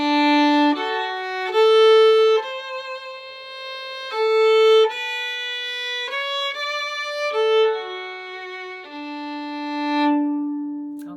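Fiddle playing two phrases of a waltz at a slow beginner pace, sustained bowed notes moving stepwise and ending on a long open D, clear and close with no voices.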